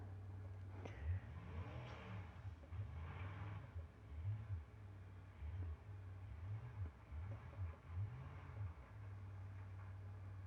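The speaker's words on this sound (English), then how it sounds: "So I'm going to bring the car over here." A car engine in the BeamNG driving game revs up and down repeatedly over a steady low idle drone, the pitch rising and falling in a series of wavering sweeps, with no talk.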